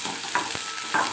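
Onions and green chillies sautéing in a pan with curry leaves, a steady close sizzle with a couple of faint scraping stirs.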